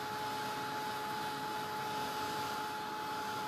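Heat tool drying paint and media on a mixed media photo frame, a steady, even blowing roar with a constant whine running throughout, close and unbroken.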